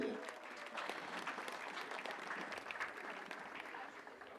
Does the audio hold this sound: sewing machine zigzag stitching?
no